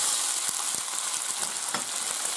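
Spaghetti being stirred in a pan with fried garlic and chili, a steady bright sizzle of hot oil running throughout with a few soft scraping stirs mixed in, close and continuous with no talking.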